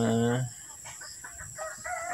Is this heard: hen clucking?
yes